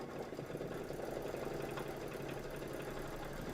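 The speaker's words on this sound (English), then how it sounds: "go ahead and stitch out your red satin stitch. This is going to be 3 minutes of stitching" An embroidery sewing machine stitches out a red satin stitch with a quick, steady, even mechanical whir that holds at a moderate level throughout.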